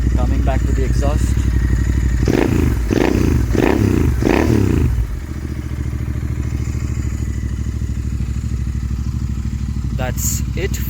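A Royal Enfield Continental GT 650 fitted with a cafe racer body kit rumbles at idle through its exhaust, blipped in several sharp revs early on before settling back to a steady, loud, close-up idle.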